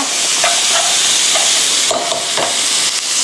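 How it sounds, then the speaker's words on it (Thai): Pork ribs stir-fried with lemongrass in a hot pan give a loud, continuous sizzle and hiss, with scraping stirs at a steady rhythm and no talking. "นี่ก็ผัดให้เข้ากันนะคะ"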